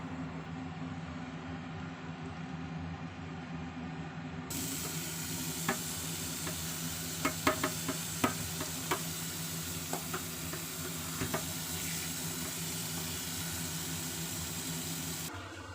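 Butter sizzles in a pan while pasta is being cooked, a steady hiss with scattered crackles and a few stirring scrapes, moderately close and fairly quiet.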